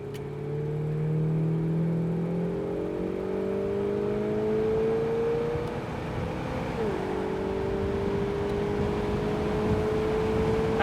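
A 1968 Plymouth GTX 440 convertible drives on the road, its engine holding a steady drone with rising revs and one shift midway, loud and continuous throughout.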